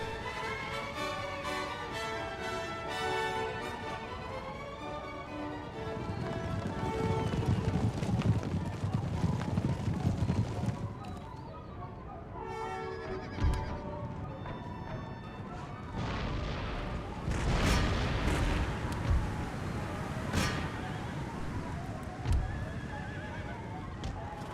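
Horses gallop and neigh amid battle in the video game Empire: Total War, with clattering hooves, whinnies and heavy crashes, while someone talks over the action.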